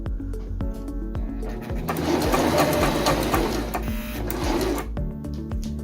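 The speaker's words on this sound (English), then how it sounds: "Sew stitch AC 6 to 8 times across the remaining horizontal mark." A Singer M1255 sewing machine stitching a buttonhole, its rapid steady needle clatter running close and continuous, rising in intensity through the middle before slowing again.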